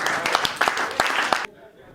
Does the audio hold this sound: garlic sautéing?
no